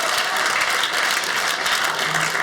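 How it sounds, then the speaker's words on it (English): A comedy club audience claps in steady, dense applause that fills the room at full loudness from start to finish, with no voices rising above it. "Clap your hands if you were scared of your parents."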